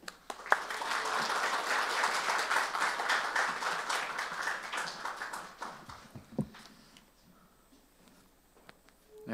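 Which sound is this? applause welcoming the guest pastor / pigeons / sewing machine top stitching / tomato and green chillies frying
applause welcoming the guest pastor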